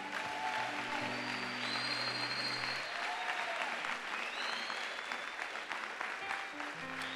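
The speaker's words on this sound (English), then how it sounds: "Clap for the Lord." Church congregation applauding together, a sustained wash of many hands clapping that fills the room, with some low tones under it early on.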